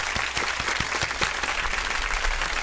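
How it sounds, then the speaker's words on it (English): Audience applause fills an interview show's venue, a dense, steady patter of many hands clapping at close range, continuous and fairly loud throughout. "Round of applause."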